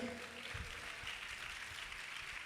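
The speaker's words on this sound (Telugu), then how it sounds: "అందరు చప్పట్లు కొట్టండి సంతోషంగా." A church congregation claps together during a sermon, a dense, steady patter of many hands at fairly low volume that carries on without pause.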